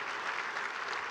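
Applause from an audience for the finalists at an awards presentation, a dense steady patter of many hands clapping throughout, fairly loud and with no talk over it.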